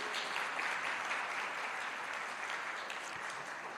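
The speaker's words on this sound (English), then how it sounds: "give her a round of applause" Audience at the official launch of the Jamaica Legal Information Portal breaks into sustained applause, a thick continuous wash of many hands clapping at an even, fairly loud level with no talk over it.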